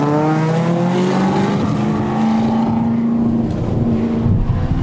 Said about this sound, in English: Watching the BMW battle the Camaro is like reliving road racing in the 60s and 70s.